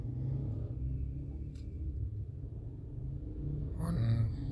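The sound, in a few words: car speeding and drifting in video game GTA V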